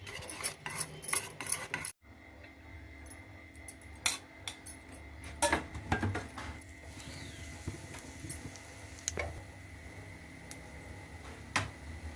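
Eggs beaten in a bowl until frothy for a bread omelette, with quick, irregular clinks and taps of a utensil against the bowl, close and fairly faint, with short pauses between bursts.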